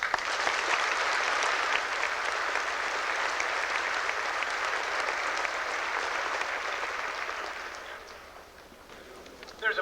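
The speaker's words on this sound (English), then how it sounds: "I think they all deserve a round of applause" A crowd at a 1998 high school graduation ceremony in Vincent, Ohio, gives sustained loud applause that holds steady for several seconds and then gradually thins and fades.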